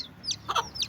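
Chickens cluck in short, close calls with a few sharp rising notes, set in a poultry shed during a mite and lice treatment with powder.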